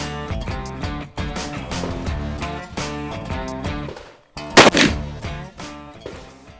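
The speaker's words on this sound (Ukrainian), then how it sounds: "Постріл номер 2" A single loud shot from a Rossi R95 lever-action rifle cracks out midway, a sharp burst standing out against steady tonal music playing throughout.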